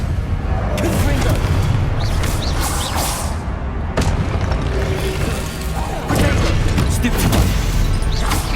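Spell explosions and combat impacts in the video game Hogwarts Legacy: loud booming blasts and crashing hits over a dense, rumbling battle soundscape, with a sharp burst near the middle and repeated thuds throughout.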